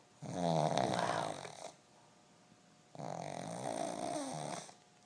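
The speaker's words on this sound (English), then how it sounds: "snoring is so loud." A pug snores loudly up close, with two long, rasping inhaled snores separated by a quiet pause.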